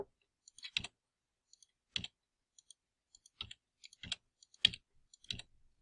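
Computer mouse clicks and keyboard key presses while deleting dimensions in CAD design software: about seven sharp, isolated clicks spaced roughly half a second to a second apart, close and crisp, with silence between and no talking.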